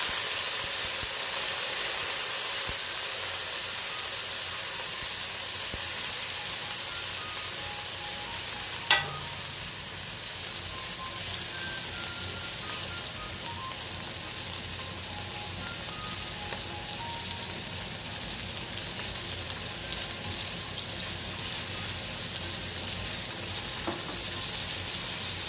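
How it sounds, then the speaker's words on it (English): Shrimp frying in a little oil in a wok on high heat, a steady close sizzle and hiss with a single sharp clack partway through and faint stirring scrapes. "I have my wok here on high heat with just a little oil. And the first thing I'm going to do is get my shrimp in"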